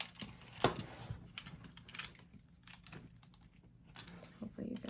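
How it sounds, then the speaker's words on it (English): Blade cutting lightly through book pages to free a printed plate, a quiet series of scratchy, irregular scraping and tapping sounds close up. "trying to lightly cut through."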